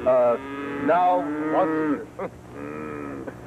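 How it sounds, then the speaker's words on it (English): Cattle at a slaughterhouse moo loudly and close by, several drawn-out lowing calls following one another in quick succession, with no talk over them. "there's so much noise there with the cattle I can't even talk"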